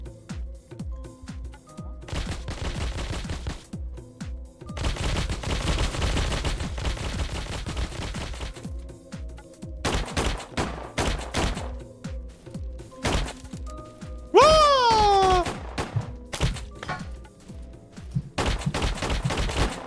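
Shotgun blasts and other gunfire in the co-op horror video game Shift at Midnight, a dense run of loud impulsive shots and bursts, with short gaps and one rising synthetic whine partway through.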